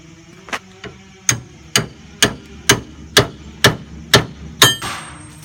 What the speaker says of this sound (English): 4-pound hammer.